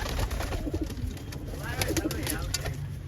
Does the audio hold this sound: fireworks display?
no